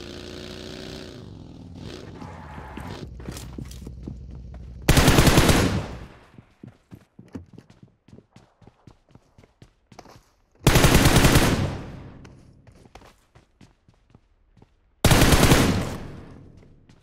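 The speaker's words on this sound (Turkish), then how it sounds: "Bir şeyin üzerinden mi sıkıyorlar?" Close, loud automatic gunfire bursts in the mobile game PUBG Mobile come in three dense sustained volleys, with a softer string of single shots and low engine-like rumble between them.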